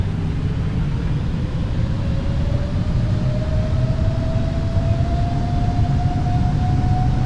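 Boeing 777-300ER jet engines in Microsoft Flight Simulator spooling up toward takeoff power on departure from Miami, a loud steady roar with a whine climbing slowly in pitch.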